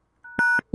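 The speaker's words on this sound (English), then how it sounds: "Dial the number." Keypad tones from a telephone dialing a number in a contact-center system test: a soft lead-in tone, then a couple of crisp, loud DTMF beeps in quick succession.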